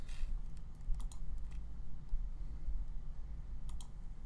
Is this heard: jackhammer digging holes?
no